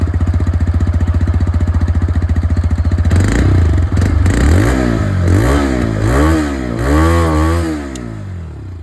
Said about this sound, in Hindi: तो एग्जॉस्ट साउंड में आप लोगों को सुना दूं। स्टार्ट करते हैं रेडर के साथ।